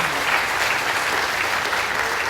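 A convocation audience claps steadily and densely, a continuous near wash of applause holding at an even level throughout.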